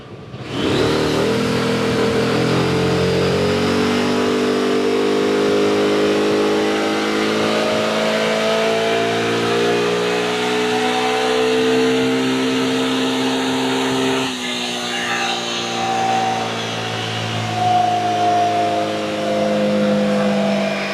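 A Kymco Xciting 400 scooter engine revs hard and steadily on a dynamometer for a long stretch, its pitch climbing gradually, dips briefly, then roars on at high revs.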